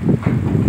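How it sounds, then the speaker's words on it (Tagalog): Strong wind in a sandstorm buffets the microphone in low, rumbling gusts, loud and steady with brief surges. "grabe lakas ang hangin"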